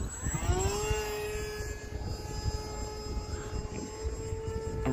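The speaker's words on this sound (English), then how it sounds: "I heard a full scale going overhead." A full-scale airplane flies overhead, its engine droning as a steady tone that sweeps downward, with constant wind noise at an open flying field.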